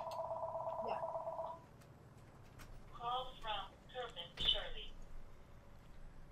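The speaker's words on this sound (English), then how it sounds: "You heard the phone ring, right?" A telephone rings in short electronic bursts, a steady tone first and then a few warbling trills with pauses between them, fairly faint beneath a low background hum.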